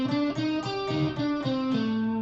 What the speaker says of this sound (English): Now, you're basically playing a blues scale, but with a fifth removed.